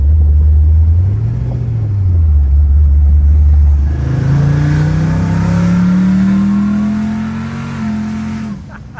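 A loud supercharged Pontiac GTO engine idles with a deep rumble, then revs up and holds a rising, whining pitch before easing off, close by.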